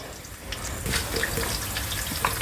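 Curry leaves crackle in about four spoons of hot oil with two pieces of onion for a village-style country chicken curry, giving a steady broadband hiss with small sharp pops throughout.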